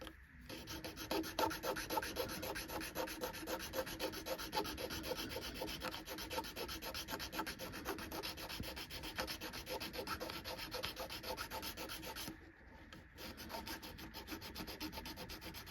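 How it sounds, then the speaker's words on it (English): Filing bumps off the back of a Hot Wheels die-cast toy car, a continuous fast scratchy rasp of close strokes that runs almost unbroken, briefly pausing near the end, no talking. "We are going to take those bumps off with a file."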